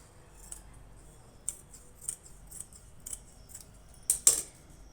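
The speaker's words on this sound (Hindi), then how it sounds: "इसलिए पहले कट करेंगे छोटा वाला गला" Scissors snip through blouse fabric to cut a small neckline, a series of short, crisp, close cuts spaced irregularly with two sharper snips near the end over a quiet room.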